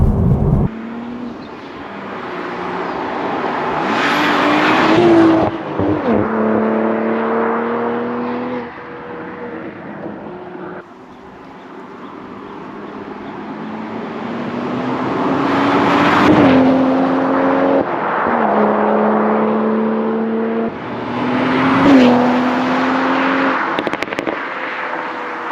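A 2026 Toyota Supra Final Edition engine revs loudly and close, with repeated rising blips and throttle surges as it downshifts, alongside steady wind and road roar through the cabin.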